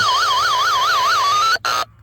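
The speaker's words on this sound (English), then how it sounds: "hear the dial tone with the static over the tone" A steady warbling telephone dial tone wavers up and down continuously under a layer of hiss and static from a faulty phone line, then cuts off briefly and stops.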